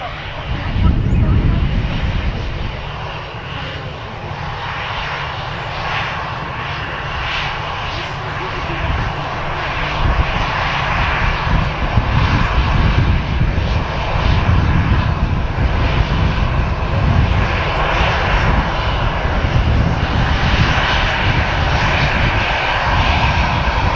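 An EasyJet airliner bound for Geneva rolls down the runway at Manchester Airport, its engines giving a loud, sustained roar that swells and holds, with someone talking over it.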